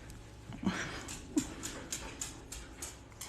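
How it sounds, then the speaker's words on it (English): A dog pants softly indoors while its nails click on the floor in a light, irregular series of taps, close and fairly quiet. "And that's Xena panting"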